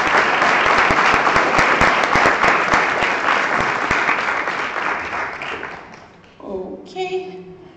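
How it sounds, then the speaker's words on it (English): Loud, dense audience applause fills a hall at the EPSA Annual Congress 2018, holding steady for about six seconds before thinning out as a speaker's voice takes over. "I suggest we can clap for Bernardo."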